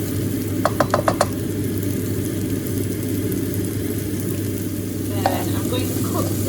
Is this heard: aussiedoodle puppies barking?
no